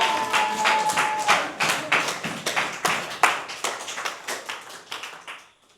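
A church congregation claps together in a steady rhythmic applause, many hands beating in unison at moderate loudness before fading away.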